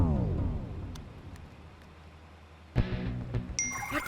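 A bright electronic chime rings out near the end, following a low rumble that fades into quiet background noise.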